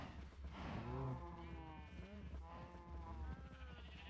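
Several cows in the Minecraft video game moo in overlapping, drawn-out calls, moderately close and fairly quiet, following one another over a few seconds.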